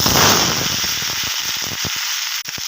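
Bottle gourd peel hits hot oil with nigella seeds and green chilli, bursting into a loud, crackling sizzle that gradually thins into scattered pops and spits close by.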